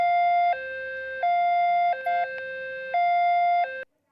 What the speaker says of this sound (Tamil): Number 4 high low siren.